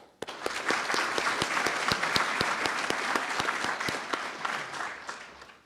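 Steady, dense audience applause fills a change of command ceremony for the 505th Command and Control Wing, sustained and fairly loud with many overlapping claps, fading slightly at the end.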